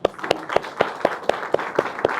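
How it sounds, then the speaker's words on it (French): Wedding guests applaud at a civil ceremony, a steady run of about nine evenly spaced claps that sound like a small group or single pair of hands, fairly faint and close, with no voices. "Sous vos applaudissements."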